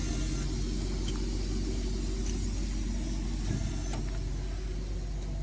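RV automatic leveling jacks on a 2023 Verona 36VSB adjust the front end, a steady low motor hum and rumble running throughout with a couple of faint clicks, fairly close and continuous.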